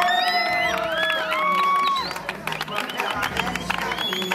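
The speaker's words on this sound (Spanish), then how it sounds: "Aplausos, aplausos." Cheering crowd with whoops and shouting at a school Olympics pageant, loud and continuous, with a few whistles and voices rising through the noise before it thins out.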